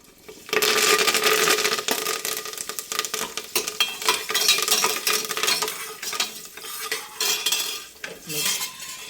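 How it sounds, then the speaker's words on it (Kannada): Curry leaves hit a hot pan and sizzle loudly, with metal utensils clattering and stirring through the crackle of frying oil, steady for several seconds before easing off. "ನೋಡಿ ಕರ್ಬೇವಿನ ಸೊಪ್ಪು ಹಾಕ್ತಾಯಿದ್ದೀನಿ"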